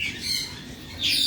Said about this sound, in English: That's a big bird there.